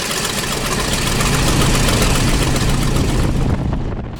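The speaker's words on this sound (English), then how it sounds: "It's got a big 300 horsepower radial engine, 9-cylinder" A big 300 horsepower nine-cylinder radial engine on a short-takeoff-and-landing airplane runs with a loud, steady, throbbing roar and a low knocking pulse, close by and continuous until it fades slightly at the end.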